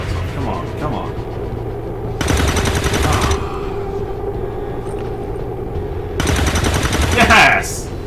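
Overwatch gunfire from XCOM 2 soldiers in a turn-based strategy game, coming as two loud bursts of rapid shots, each lasting about a second, over a steady game soundscape with talk around them.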